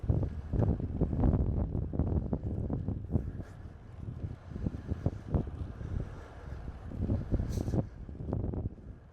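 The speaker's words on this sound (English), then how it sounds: "just listen to the desert wind every once in a while" Desert wind buffets the microphone on a solo bike ride, a low gusty rumble rising and falling in uneven bursts, fairly faint and continuous with no talk.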